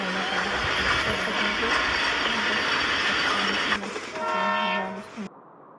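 A train rumbles past steadily and sounds two short horn blasts near the end before cutting off, loud and close, with no voices.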